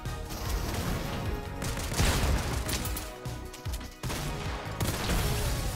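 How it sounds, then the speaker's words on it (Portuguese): Gunfire in Fortnite, with a loud, cluttered run of shots and impacts in bursts, a brief dip near the middle and then more firing, with no talking. "Eu errei o segundo tiro porque eu tava tremendo"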